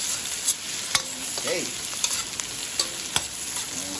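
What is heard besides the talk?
sautéing aromatics together in a pan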